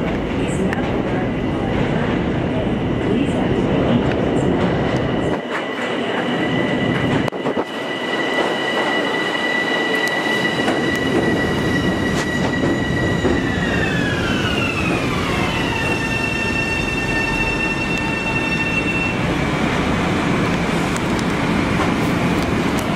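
Long Island Rail Road train at Nostrand Avenue station during the evening rush, a loud continuous rumble of wheels on rails with squealing metallic tones that slide downward as the train moves, plus a brief lull midway.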